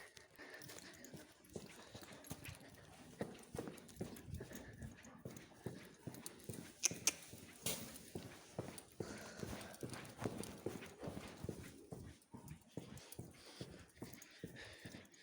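Hooves of a grey Arabian horse clip-clop steadily on a hard surface, a close, continuous stream of sharp knocks with light background noise and a faint voice now and then.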